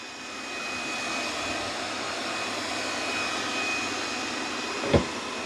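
A Lefant M2 Pro robot vacuum grinds and strains while wedged under a table, giving a steady, rough whirring hum with a brief knock near the end and no voices.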